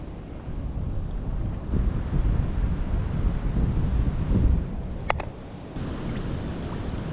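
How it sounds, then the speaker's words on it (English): Wild sea waves crash on the beach at West Sands, St Andrews, in Fife, heard as a steady distant roar under heavy wind buffeting the microphone, with no voices. "you can hear the waves crashing out there, completely wild"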